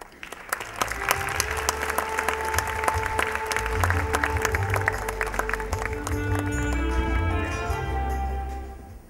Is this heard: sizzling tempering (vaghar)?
no